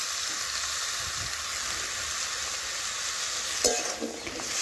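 Ridge gourd, eggplant and potato frying with spices in a pan, a steady hissing sizzle throughout, with a sharp clatter of stirring near the end.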